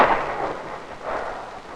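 Sharp crack of a nuclear blast shock wave close to the burst, a loud broad rushing burst at the start that swells again midway, with no voices.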